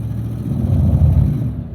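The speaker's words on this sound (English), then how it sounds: "now it's just stalling the engine." A 1999 Chevy Silverado 1500 4x4 pickup engine strains under power braking, a loud, steady, deep rumble that holds throughout and eases slightly at the very end, with no talking.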